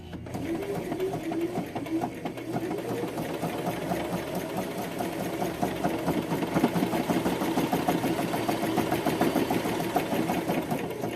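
Sewing machine stitching through paper ephemera, a steady, rapid mechanical chatter running continuously at moderate volume, close by and without talk.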